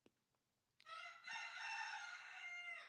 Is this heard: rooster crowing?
yes